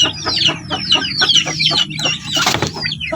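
Several native chickens cluck and chirp close by in quick, overlapping bursts, with one louder squawk near the end.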